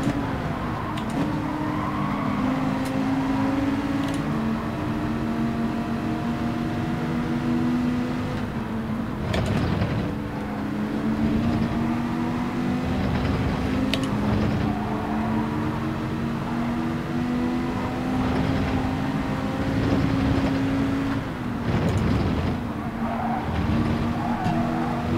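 Race cars battling for first place in a Gran Turismo World Series race in the video game, a continuous loud engine drone with rising and falling pitch through gear changes, tire squeals and close cars passing.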